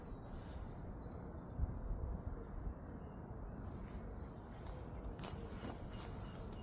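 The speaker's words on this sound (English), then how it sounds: "I don't know what bird it is making that noise, but I can't see it" An unseen bird in a park gives short, high, repeated chirps in two brief bursts, fairly faint against a steady outdoor background hiss.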